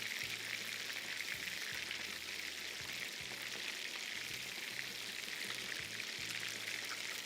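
Beef pieces frying in a pan, giving a steady soft sizzle and crackle at low volume with faint clinks as pieces are turned, and no voices.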